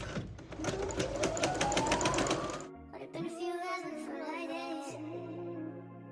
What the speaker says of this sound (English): So you're gonna sew forward, sew backwards a little bit just to secure your stitches.